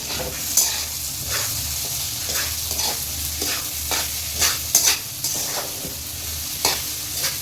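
Chili powder is stirred into bitter gourd curry frying in a pan, giving a steady sizzle punctuated by repeated scraping strokes of a spoon against the pan.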